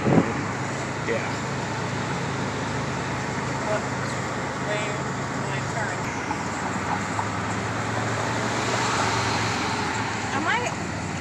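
Highway traffic heard from inside a moving car, a steady broad road rumble and tire hiss with passing vehicles swelling and fading, while people talk over it inside the car.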